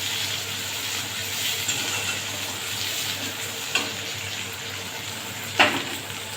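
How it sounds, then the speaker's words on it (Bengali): Onions sizzle steadily in a pan, a soft continuous frying hiss with a couple of brief clinks or stirring scrapes near the end, no voices. "পেঁয়াজটা একটু ভেজে নেব"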